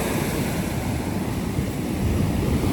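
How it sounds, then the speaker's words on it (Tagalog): Big sea waves rolling in, a dense, loud, continuous roar of surf close by, with wind buffeting the microphone and no voices. "lalaki ng alon"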